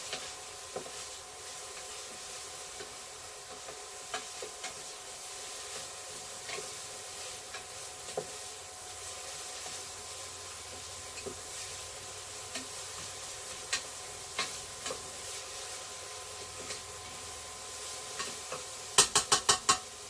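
Mushrooms and vegetable filling for vegan steamed dumplings being stirred in a pan, with a soft continuous sizzle and scattered light scrapes and clicks of the utensil, plus a few sharper taps near the end.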